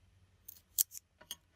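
Scissors cutting foam squares for a Valentine's card, a few crisp separate snips close by with short pauses between them.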